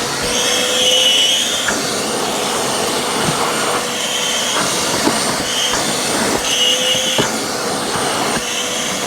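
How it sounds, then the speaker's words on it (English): A 6-horsepower Vacmaster stainless steel shop vac vacuums inside a car, its loud continuous roar shifting as the nozzle moves, with intermittent bumps and knocks against surfaces. "really tell there's a lot of suction power with this vac"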